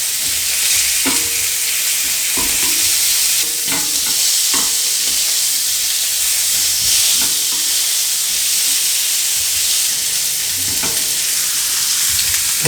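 Lamb chops frying in a pan hiss in a loud, dense, continuous sizzle while a utensil stirs them, giving a few clear scraping knocks against the pan up close, with no talking.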